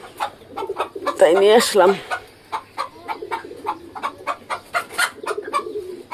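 Chickens cluck and murmur close by in a rhythmic series of short calls, with a burst of louder squawking early on, while a person talks over them.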